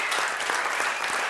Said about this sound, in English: Big round of applause for Johnny Mango